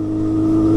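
A steady engine drone holds a constant pitch throughout, rising slightly in loudness, a faulty Suzuki Hayabusa motorcycle engine idling up into a rev.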